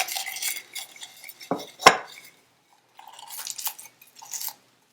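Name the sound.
chopping garlic cloves with a knife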